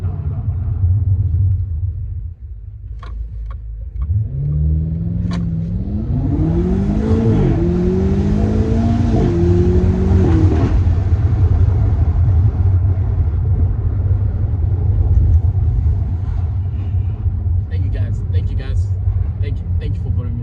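A BMW M8 Competition sits over a deep idle rumble, then revs in a series of rising, climbing engine notes with a brutal exhaust roar. The revs peak and fall back to the low, steady burble.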